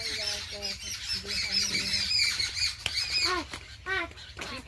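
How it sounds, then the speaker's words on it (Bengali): Several birds, including bulbuls, babblers and sparrows, squawk and chirp busily around a house among mango, bamboo and sapodilla trees, overlapping calls filling the air with a constant background hum. "সারাটা দিন প্রচুর প্রচুর পাখির আওয়াজ বাড়ির মধ্যে"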